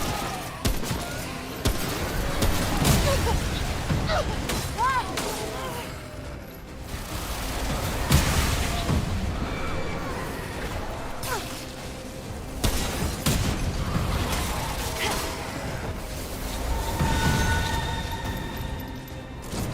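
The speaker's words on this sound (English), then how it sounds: "you gotta keep moving, because otherwise those explosions will keep happening" Chaotic combat in the shooter Remnant: From the Ashes during a boss fight, with repeated booming explosions and gunfire bursts throughout, dense and loud amid a steady game soundtrack.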